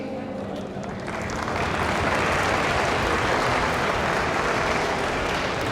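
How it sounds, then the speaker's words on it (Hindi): Sustained applause from a large audience at a mushaira poetry gathering in Lahore, rising after the first second into a dense, steady wash of clapping that fills the rest of the stretch. "आप तमाम लोग अपने लिए तालियां बजा दीजिए।"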